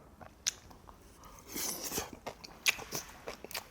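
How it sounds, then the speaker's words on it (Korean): Close chewing and biting of spicy stir-fried pork (jeyuk bokkeum) at a Jeolla-style Korean restaurant, with soft wet crunches and sharp clicks spread irregularly across the moment, no talking. "제육볶음부터 먹어보겠습니다."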